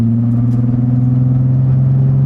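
A manual car's engine hums at a steady low pitch with strong, even harmonics, loud and close while the car is in gear, with no voices.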